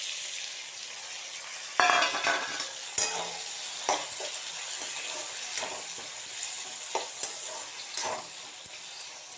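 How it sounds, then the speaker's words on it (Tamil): Onion, tomato and green chilli stir-fried in a pan for tomato sevai: a steady low sizzle broken by repeated scraping and clinking strokes of a spoon against the pan, close and moderately loud, with no talking. "வெங்காயம், தக்காளி, பச்சை மிளகா எல்லாத்தையும் நல்லா பிரட்டி விட்டுட்டு"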